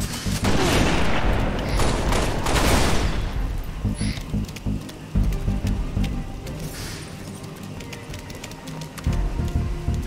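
Gunfire in the Halo: Reach Nightfall mission, with loud bursts of shots packed into the first few seconds, then scattered single reports and battle noise that carry on at a lower level, with no voices.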